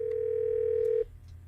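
An office intercom phone gives a loud, steady, close dial tone that holds for about a second and then cuts off, leaving faint room noise and a light click.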